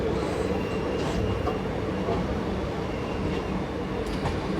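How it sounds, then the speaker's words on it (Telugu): A Visakhapatnam–Palasa passenger train rumbles past close by, a loud, steady roar of rolling cars with faint wheel clatter and a brief high squeal, heard on its own without talk. "విశాఖపట్నం పలాస ప్యాసింజర్."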